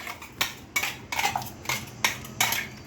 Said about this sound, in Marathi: आता मी जे वाटप वाटलं होतं ते मी ह्या डाळी, शिजवलेल्या डाळीमध्ये ॲड करते